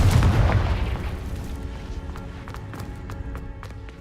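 Confringo fire curse cast in Hogwarts Legacy: one loud booming blast that rolls off into a rumbling tail, followed by scattered sharp crackles and debris hits.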